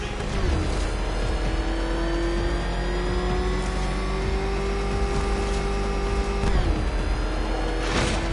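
A car engine in the Batman Arkham Knight video game revs loud and sustained, its pitch climbing and holding steady before shifting, alone without talk.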